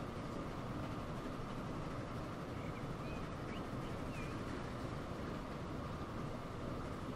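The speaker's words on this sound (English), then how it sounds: "There is the intercity train there, waiting to get through the Crampton." An intercity train waits on the line in the video game Transport Fever 2, set in the UK: a steady low engine rumble and rolling rail noise drones evenly throughout, with faint distant squeals and no speech.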